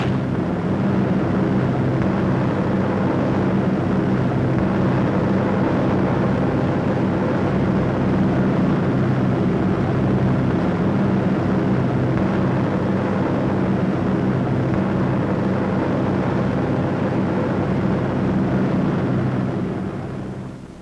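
B-17 Flying Fortress bombers drone in formation, a dense, steady low roar of many piston engines that holds unbroken throughout.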